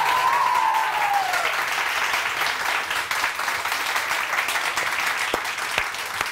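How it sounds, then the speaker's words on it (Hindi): Studio audience applause on a Pakistani morning TV show, sustained loud clapping from a crowd filling the whole stretch, with a brief whistle-like tone early on and a couple of sharp knocks near the end. "जरा जोर से तालियां बजा के बताएं"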